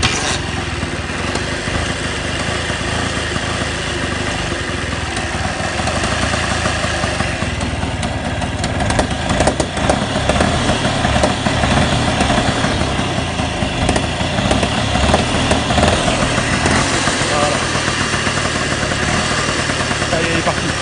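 A 1959 Piaggio Vespa scooter engine running steadily after starting, a loud continuous close buzzing putter that holds throughout with slight unevenness.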